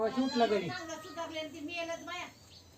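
A voice imitates a cat's meow, a drawn-out mewing call followed by softer wavering sounds, close and fairly quiet.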